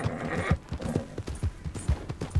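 Horses galloping in the Red Dead Redemption II video game, with steady clip-clop hoofbeats thudding in a quick, driving rhythm, loud and close, with a brief whinny-like cry mixed in.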